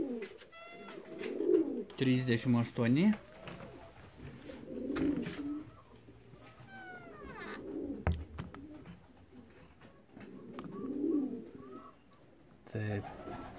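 Racing pigeons coo in repeated soft, low phrases at a loft on a race day, close and steady, while people talk intermittently over them.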